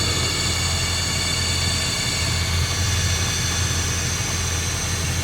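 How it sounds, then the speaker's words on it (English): A 2006 BMW E61 530xi wagon cruising at about 60 mph with an exhaust shake, heard from inside as a steady, loud road and engine drone with a strong low rumble and broad hiss throughout, no voices. "The car is doing about 60 miles per hour right now."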